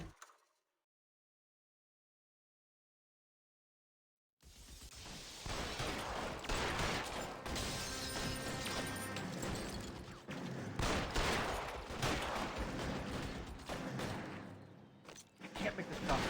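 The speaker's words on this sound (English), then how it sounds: "I want to shoot that guy in the head." Dense rapid gunfire from the video game L.A. Noire Remastered erupts after about four seconds of silence, a loud sustained barrage of overlapping shots that runs continuously to the end.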